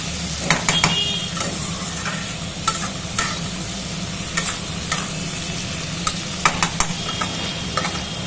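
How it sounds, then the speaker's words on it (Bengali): Crab curry being stirred in a pan just after tomato and capsicum go in, with a continuous sizzle of frying and intermittent scraping clacks of a spoon against the pot, close and prominent. "এই যে টমেটো আর ক্যাপসিকাম কাটাটা দিয়ে দিলাম, আরও একবার নেড়ে নিই।"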